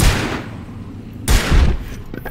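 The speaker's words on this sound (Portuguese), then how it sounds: "Será que eu tenho que dar um tiro nessa corrente aqui?" Two heavy gunshot blasts fired at a chain in the video game Alan Wake, about a second apart, loud and booming, with a brief rumbling tail after each.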